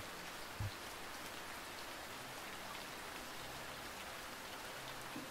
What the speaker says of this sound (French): Suivez à présent une nouvelle goutte de pluie qui tombe cette fois au milieu d'une forêt